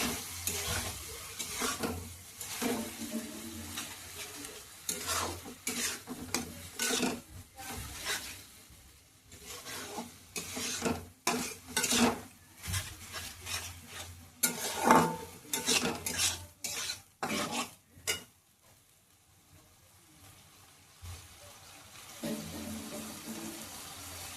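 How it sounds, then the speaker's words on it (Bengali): Lote (Bombay duck) fish frying in hot spiced oil while being stirred in a pan, a steady close sizzle broken by repeated sharp scrapes and clinks of the utensil against the pan, with no talking. "লোটে মাছটা দিয়ে ভালো করে নাড়াচাড়া করে নেব, যাতে ঝুড়ো ঝুড়ো হয়ে যায়"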